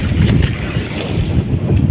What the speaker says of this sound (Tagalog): Ayan, palaban kami sa amihan.